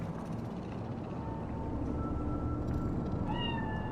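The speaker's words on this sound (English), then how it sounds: "Do you see it? That cat?" A cat meows in the video game Cyberpunk 2077, a few thin drawn-out meows over a steady bed of city ambience and music, fairly faint and with no talking.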